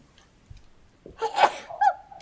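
A single close sneeze during a public board meeting, a quick sharp intake then an explosive burst, trailing off into a short breathy sound in a quiet room.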